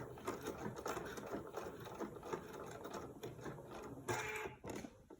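Close and fairly quiet, a sewing machine stitches a buttonhole in fabric with a rapid, continuous mechanical whirr and ticking rhythm, shifting briefly near the end as it sews across the back.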